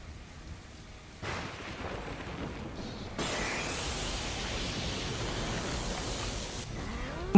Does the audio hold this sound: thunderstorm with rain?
yes